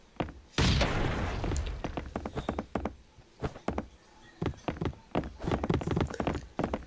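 A bomb blasts against a base wall during a raid in the survival game Last Island of Survival, a sudden heavy boom followed by a dense run of sharp impact and gunfire-like cracks, loud and close, with faint talk.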